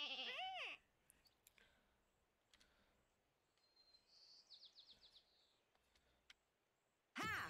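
Sheep bleat in the co-op game Lumberhill, one wavering bleat at the start and another at the end, with soft chirps and clicks in between and no talking.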